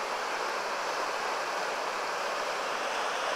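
Water surging out of a reservoir, swollen by rain, a loud, steady roaring rush heard close and continuous, with no other sounds.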